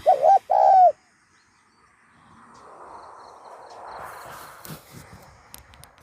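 A zebra dove gives a short, clear close coo phrase at the start, then quiet outdoor ambience with faint distant bird chirps and soft rustling.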